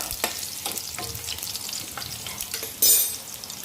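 Finely chopped garlic and green chillies frying in oil in a pan for baingan bharta, a close, soft sizzle with occasional scrapes of a stirring spoon and a brief louder hiss near the end, no voices.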